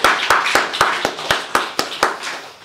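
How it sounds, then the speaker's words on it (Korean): A church congregation claps together in thanks during a Sunday worship service, a steady run of about ten sharp, evenly spaced claps at moderate volume with no talking. "우리 올해 신실하게 우리를 인도하신 하나님께 감사의 박수를 한번 하겠습니다."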